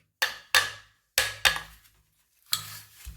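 Five sharp metallic hammer strikes land on a water pump to remove its impeller, irregularly spaced, each ringing briefly before fading; no voices.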